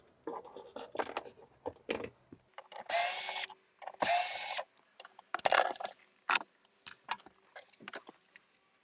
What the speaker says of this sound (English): I'm going to use some power tools.